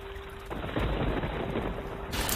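A cartoon sound effect of typhoon rain and thunder in a stylised scene: a dense, steady rainfall hiss with a deep rumbling swell building underneath, loud and continuous without any speech.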